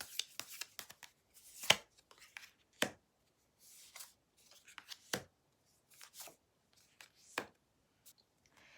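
Tarot cards are shuffled and drawn in a quiet room: soft, close bursts of riffling and sliding card noise come in irregular clusters, separated by near-silent pauses.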